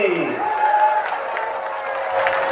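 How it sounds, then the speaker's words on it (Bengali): A political rally crowd in Meherpur applauds and cheers for the chief guest, steady clapping mixed with shouts and whoops rising after a brief amplified voice at the start. "আজকে প্রধান অতিথির উদ্দেশ্যে আমরা জোরে করে একটা করতালি দিই"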